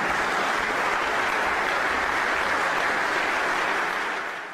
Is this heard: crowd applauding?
yes